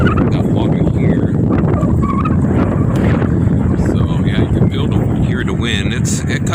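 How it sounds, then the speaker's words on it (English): Gusty wind blows across open water under a high wind advisory, roaring close into the microphone in steady rushes that rise and ease, with someone talking over it. "Hear the wind. It comes and goes."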